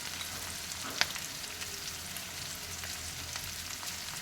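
Ladyfinger curry with curry leaves sizzling in a pan while being stirred, a steady moderate frying hiss with occasional sharp utensil clicks.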